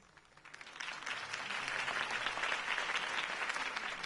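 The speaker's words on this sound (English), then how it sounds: "could have heard that applause" Applause from a crowd swells in after a brief quiet start and holds steady, dense and moderately loud, with no talking over it.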